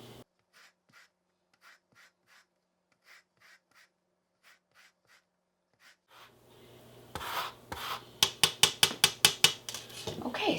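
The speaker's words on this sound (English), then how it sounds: "when you zest, you want to make sure that you're only getting the colored part of your fruit" Orange peel zested over a grater for cranberry sauce, faint scattered scratches at first, then louder close rhythmic rasping strokes in a quick, even series toward the end, with no talk.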